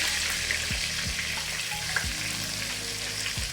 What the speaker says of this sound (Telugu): ముందుగా వంకాయలు వేయించుకోవాలి